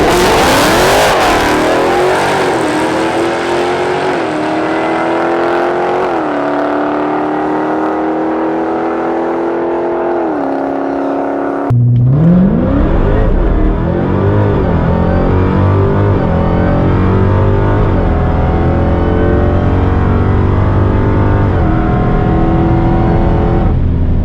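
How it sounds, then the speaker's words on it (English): A Whipple supercharged Dodge Hellcat launches hard at a drag track, its engine roaring continuously and climbing through the revs, with a sharp break near the midpoint as the next gear takes hold and the roar resumes louder and deeper. "Spun off the line, but then it went hard."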